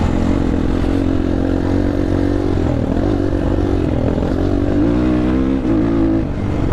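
Engine of a MOTOPRO 300 motorcycle on a ride, loud and near, holding a steady drone with pitch rising and falling as the throttle is revved, no voices.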